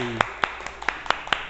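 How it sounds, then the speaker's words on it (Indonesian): A small classroom group claps for a student, about half a dozen sharp separate claps spaced fairly evenly, close and distinct, following a brief voice at the start. "Tepuk tangan buat Mbak Lutfi"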